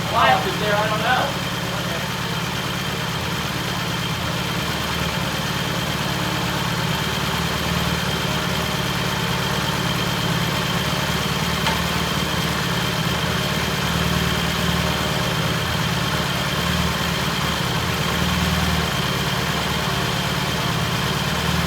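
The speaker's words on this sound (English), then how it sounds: "Okay, we got a really nice idle," A Triumph T100 motorcycle engine idling steadily after its first start, a continuous close, even mechanical rumble with a brief rev at the beginning, while people talk in the background.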